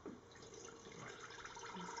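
Water poured from a container into a Toddy cold brew coffee brewer holding ground coffee, a steady close splashing and trickling that runs unbroken for about two seconds with no voices.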